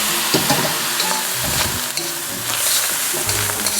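Prawn fried rice sizzling and being stirred in a hot wok with soy sauce splashed in, loud close crackling and frying with repeated scraping and tossing strokes.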